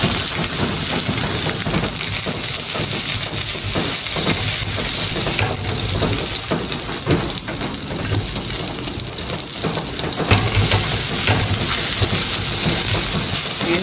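Garlic and onion sizzle in leftover cooking oil in a pan for an afritada lunch, a steady close, dense hiss and crackle that runs throughout with no talk over it.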